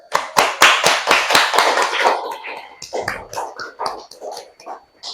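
A group of people at an Art of Living session for journalists clapping hands together, a quick loud burst of claps followed by scattered, softer, uneven claps fading out.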